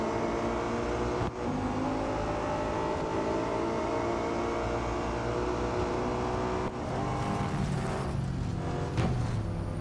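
Race cars in the Real Racing 3 video game roar steadily and loudly at close range, with engine tones shifting through gear changes and brief dips, and no talk over them.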